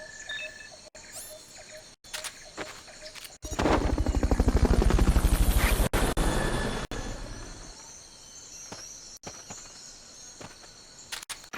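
Helicopter in the Metal Gear video game: a loud broadband rotor roar swells in around the middle, with rapid chopping pulses, then fades, set among scattered game sound effects with no talk.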